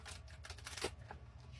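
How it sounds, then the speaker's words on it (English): Playing cards are shuffled a couple of times during a card reading, a quiet rapid riffling patter with soft flicks and taps, close and alone. "Give it a couple of shuffles."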